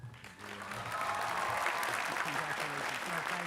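A commencement crowd applauds, a dense wash of clapping that swells quickly and holds steady, loud and filling the space, with a faint musical or vocal tone beneath.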